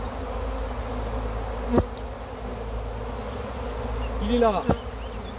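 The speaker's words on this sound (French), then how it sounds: "Un bel essaim, un bel essaim. On va les faire rentrer." Honeybee swarm outside a hive drones in a steady, dense buzz throughout, with a brief voice speaking near the end.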